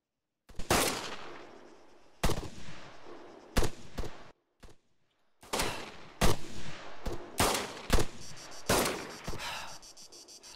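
Gunfire in the video game Arma III, Altis Life heist: loud, sharp shots and short rapid bursts, unevenly spaced across several seconds with brief silent gaps between volleys.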